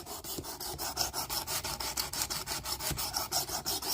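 Knife blade stroked across the abrasive of a Work Sharp Precision Adjust sharpener, a quick regular rasping rhythm of about four strokes per second, close and fairly quiet, with no talking.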